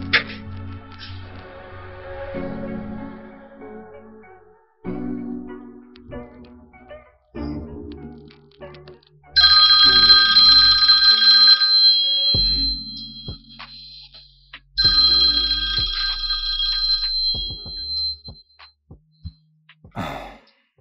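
A telephone rings indoors in two long, steady bursts of bright electronic tone, fairly loud and close, separated by quieter shuffling and background noise.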